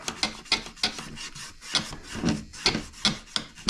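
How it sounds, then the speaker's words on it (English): Light rhythmic scuffing of a 1970 Buick Wildcat dashboard part being abraded before painting, a series of close, raspy back-and-forth strokes at a steady pace with no talk. "I just want to come in and scuff this really slightly but politely."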